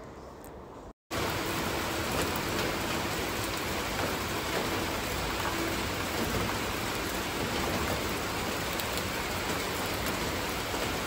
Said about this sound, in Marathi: बहुतेक हा परतीचा पाऊस असावा.